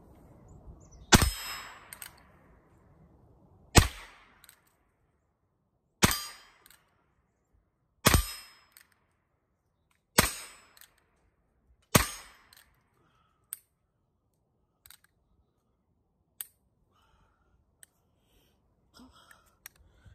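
Sharp, loud gunshots from a Ruger .22 Single Six revolver, six evenly spaced reports roughly every two seconds, each with a short ringing decay, followed by faint clicks and metallic handling sounds.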